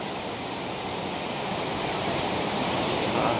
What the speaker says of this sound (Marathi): तर तुमच्या समोर आहे आता भाजे धबधबा